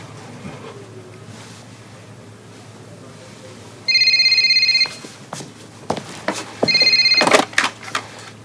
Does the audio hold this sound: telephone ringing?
yes